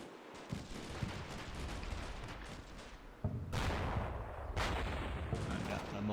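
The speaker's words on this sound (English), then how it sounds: "And the mortar's starting to drop in." Mortar rounds and gunfire in the war game Combat Mission Shock Force 2 make a dense, continuous roar of explosions, with sharp new blasts breaking in partway through.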